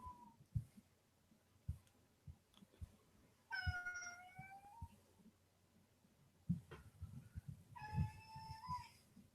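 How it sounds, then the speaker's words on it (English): A male house cat lets out two loud, drawn-out meows a few seconds apart, close by, over faint background knocks and rustling. "he does this quite often, actually. He just meows loudly."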